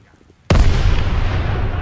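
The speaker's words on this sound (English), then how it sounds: "hold your fire till they blow the gates" A huge explosion blowing open the gates in Call of Duty WWII's Paris Liberation mission, a sudden loud boom after near silence followed by a long roaring rumble of debris.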